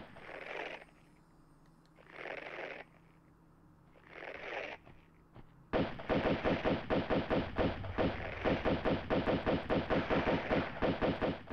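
Pistol fire in the video game Tomb Raider II, first three spaced single reports, then a long rapid string of evenly repeated shots, loud and close with no talking.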